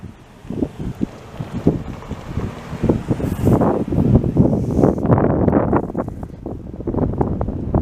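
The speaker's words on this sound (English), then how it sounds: "it's open over here, the wind picks up there" Wind gusting across an open street in Montreal's St-Henri district, a steady rushing buffet against the microphone with low rumbling surges throughout, loud and close.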